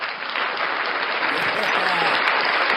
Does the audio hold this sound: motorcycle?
no